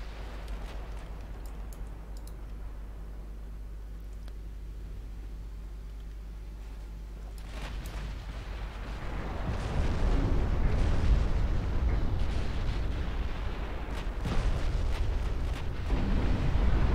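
A warship blowing up in the naval video game Ultimate Admiral Dreadnoughts: a steady low hum gives way to a swelling, roaring explosive rumble with crackling bursts that stays loud and dense for several seconds.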